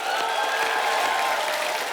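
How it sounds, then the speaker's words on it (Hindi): Studio audience applause at a comedy show, a steady dense wash of clapping held at even loudness for the whole stretch, with no voice over it. "जोरदार तालियां हो जाए।"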